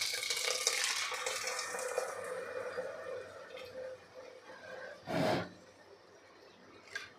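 Milk poured into a pan of fried rice for saffron rice, a soft hissing bubble at first that settles into quiet simmering, with a short splashing pour near the end and no talk.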